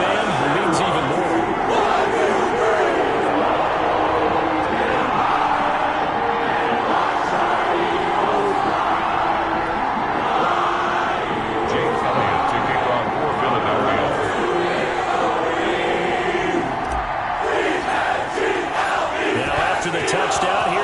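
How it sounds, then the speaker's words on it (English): Stadium crowd roaring steadily through a PS4 football video game playoff match, a loud dense wall of cheering that never lets up, with a game commentator's voice mixed in. "you get the crowd involved fully on their side in this ball game"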